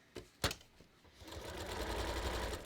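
A sewing machine stitches around a red heart banner: two soft clicks, then the motor whirs up into a fast, even run of needle strokes, quiet and close.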